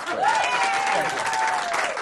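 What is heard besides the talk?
audience applause at a magic show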